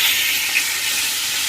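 Oil fries in a large kadai wok while food is cooked for about fifteen people at a match-day party. A steady, loud, close sizzle hisses on its own with no talking.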